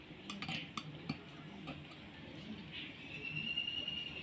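A spoon taps and scrapes inside a jar as lemon pickle is pressed down, making a handful of faint clinks early on and then softer scraping over a low steady background hum.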